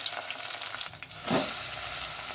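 Chopped onions hit a hot pan and fry with a close, steady sizzle. The hiss swells briefly as they go in.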